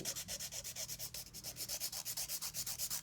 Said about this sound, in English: when you're hand filing